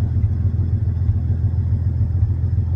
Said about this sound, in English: now it's idling normal